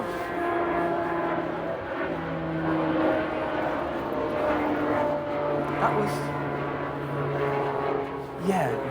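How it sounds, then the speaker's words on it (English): A small propeller plane with a loud, harsh engine drones past at a steady distance, its sustained engine tone rising and falling beneath ongoing conversation. "That was the Biggles who's got that really obnoxious plane"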